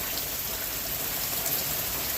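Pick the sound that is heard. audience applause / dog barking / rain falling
rain falling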